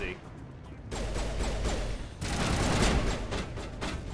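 Mass Effect Legendary Trilogy gunfire, a rapid crackling volley that starts abruptly and swells again midway, loud and dense, with a voice speaking over the shooting.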